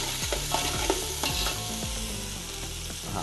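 Whole spices frying in oil for a mutton biryani, a dense close sizzle with repeated stirring knocks and scrapes of a spoon against the pot, steady and loud, no talking.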